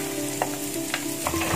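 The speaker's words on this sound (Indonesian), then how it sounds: "Jadi kita harus tumis dulu." Shallots and garlic sautéing in a pan, a close steady sizzle broken by a few stirring scrapes and spatula knocks, with no voices.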